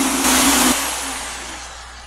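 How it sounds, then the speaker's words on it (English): A powered mixer whirs loudly in a bucket, blending pearlizer into yellow rubber dip for an Audi A4, a brief steady buzz that cuts off and leaves a fading hiss. "So I'm gonna start adding in the pearlizer, and then we're gonna start blending that together."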